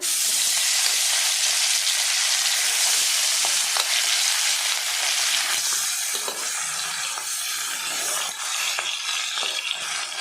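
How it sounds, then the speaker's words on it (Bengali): Ilish fish frying in hot mustard oil, a loud, steady, close sizzle that spreads across the whole span, with small crackles and pops rising throughout and no voices. "সর্ষের তেলটা কিন্তু গরম হয়ে গেছে এবার আমি এক এক করে মাছগুলোর মধ্যে দিয়ে দেব"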